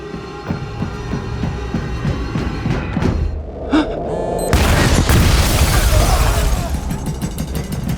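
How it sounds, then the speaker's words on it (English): A bomb goes off in a TV drama scene: a deep, heavy boom bursts in suddenly and rolls on as a loud, dense rumble with debris-like crackle after a tense stretch of low, pulsing background sound. "Report of an explosion at northwest corner of NAB."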